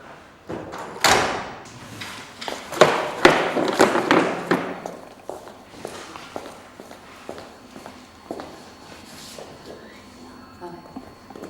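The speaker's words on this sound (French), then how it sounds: "là, tu refermes la porte." A door is pushed shut with a dull thud amid a run of footsteps and knocks, followed by quieter scattered taps while people talk nearby.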